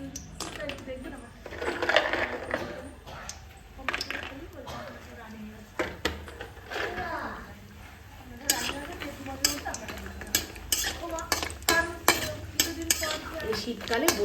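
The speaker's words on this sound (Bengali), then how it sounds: "এখানে আমি কিছুটা বড়ি তেলের মধ্যে দিয়ে ভেজে নেব।" Lentil dumplings (bori) fry in oil in a pan for a cauliflower curry, with a soft sizzle, stirring and sharp metal utensil clinks under almost continuous speech.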